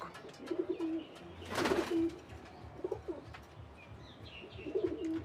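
A male green-and-white Golam pigeon gives soft, low, rolling coos, repeated four times at uneven intervals, close but quiet against a faint background hiss.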